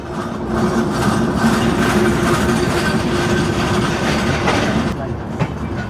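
The Drutojan Express, a Bangladeshi express train, runs on rails, heard from inside as a loud, steady rumble with continuous wheel clatter that eases slightly near the end.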